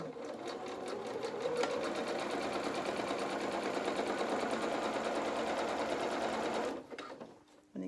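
A sewing machine stitches lace onto a felt doll in a steady, continuous run that lasts most of the time, then stops abruptly near the end, leaving brief quiet handling noise.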